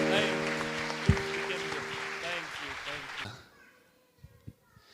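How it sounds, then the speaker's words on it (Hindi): A church congregation claps and applauds in thanks during worship, the applause loud at first over music and a voice, then fading out into near silence with a few faint knocks. "तालियां बजाएं और उसको धन्यवाद दें।"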